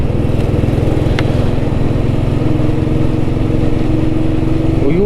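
A vintage Royal Enfield Bullet motorcycle being ridden, its single-cylinder engine thumping in a loud, steady, even rhythm close to the listener throughout, with no talking over it.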